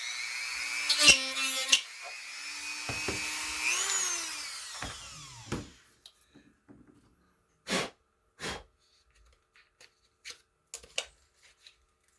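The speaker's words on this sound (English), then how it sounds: "I just took and drilled a little hole right here where the juice cup things goes on here." A small power drill whirs in short bursts while boring a hole in a cryo chamber, followed by scattered faint clicks and taps of handling.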